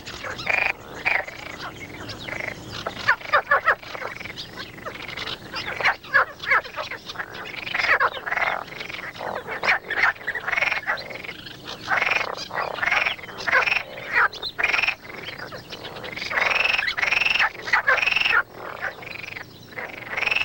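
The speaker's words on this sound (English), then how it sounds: "The water is still fresh enough for frogs and for those that like to eat frogs." Frogs croak in dense, overlapping bursts at Ichkeul lake in Tunisia, a loud rhythmic chorus of rasping calls with no voices.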